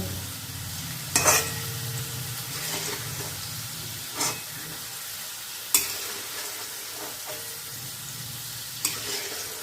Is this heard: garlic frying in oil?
yes